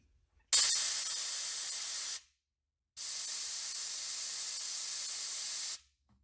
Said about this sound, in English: I'm going to go ahead and do a little bit of a paint on that using the transparent black.